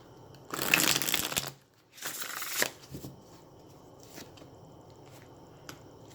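Tarot cards are shuffled in two brisk riffling bursts, followed by softer taps and slides of the deck, close and alone.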